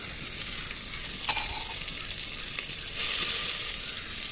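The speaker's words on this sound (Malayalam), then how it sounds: "അത് രണ്ടെണ്ണം അരിഞ്ഞ് അതിലേക്ക് ഇട്ട് നല്ലോണം വഴറ്റാണ്" Chopped garlic sautéing in a pan for a Kerala okra and ground coconut curry, giving a steady, close sizzle and fry hiss with a few soft stirring scrapes, no voices.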